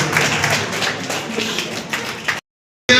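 A crowd claps steadily with some voices mixed in at a hospital award ceremony in Gudur; the applause cuts off briefly near the end, then resumes.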